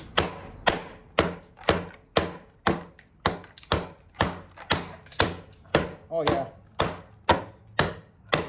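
A Carnivora Tools Mako knife chops into wood in a steady rhythm, about fifteen sharp, solid strikes close by, with someone briefly speaking partway through.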